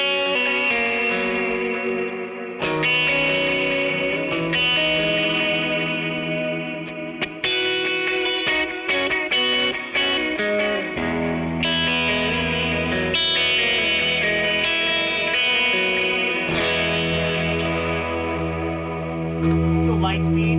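Electric guitar played through a Teddytones Rosie amp capture with a little delay and reverb, sustained distorted chords and melodic lines ringing out with echo tails, loud and continuous with no talking.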